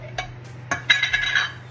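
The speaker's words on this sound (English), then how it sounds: "So what I'm gonna do is add one spoon of it" A metal spoon clinks and scrapes against a pan as a spoonful of desi ghee goes in for paratha: a few sharp, close metallic taps and a brief cluster of rattles over a steady low hum.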